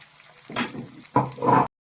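Small shallots hit a pan with sautéing ginger and garlic, two short bursts of close sizzling and frying with a quiet pause between.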